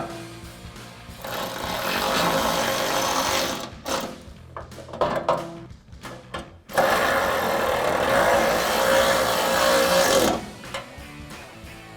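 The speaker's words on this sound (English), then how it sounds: "I'm going to grab the included Allen key on the bolt side and a 10mm socket on the nut side to tighten it down" Tightening the bolts of a full-width plate-style steel front bumper on a 2021-2024 Ford Bronco, using an Allen key and a 10mm socket: two loud, sustained whirring bursts of fastening, separated by a few seconds of quieter clicks and handling noise.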